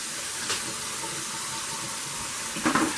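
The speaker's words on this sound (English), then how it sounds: "Turn on the water." Kitchen tap water runs steadily into a sink to rinse a whole chicken for the crock pot, a continuous close hiss with a couple of brief splashy swells.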